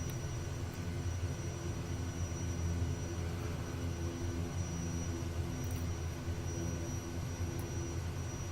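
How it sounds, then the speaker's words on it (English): A propeller aircraft engine run up to maximum RPM in Microsoft Flight Simulator 2020, heard as a steady, loud, continuous drone with a deep throb that holds level for the whole stretch, with no talking over it. "Let's go ahead and maybe put the prop up to max RPMs."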